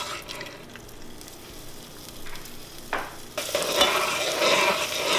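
Butter being stirred into hot caramelized sugar in a pan for salted caramel brownies: quiet scraping and stirring at first, then a louder, steady sizzle and bubbling once the butter hits, with no talk.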